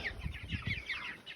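Cornish Cross chickens cluck softly and rapidly inside a chicken tractor, a close cluster of quiet, overlapping calls with no talking.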